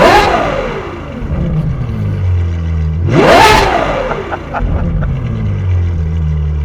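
A Ferrari 812 GTS V12 exhaust revved twice, each blip climbing sharply to a loud howl then dropping back to a burbling idle, close and loud with no talk.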